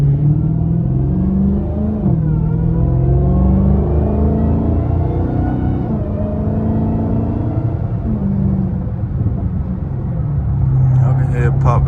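A Dodge Hellcat Redeye with a newly installed aftermarket exhaust system rumbles close by, deep and loud, its pitch rising and falling through a few revs over a steady idle.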